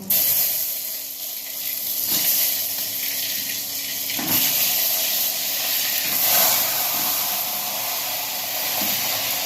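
Brinjals dropped into hot oil tempered with mustard seeds and asafoetida for a Kathiyawadi stuffed brinjal and potato curry, producing a loud, continuous hissing sizzle that swells and surges throughout, close up.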